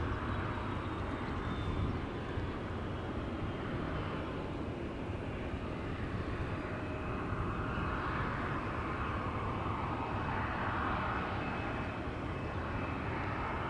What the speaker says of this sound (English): Ryanair, a mighty 737-800 on its way to Dublin, but first on its way to the runway threshold.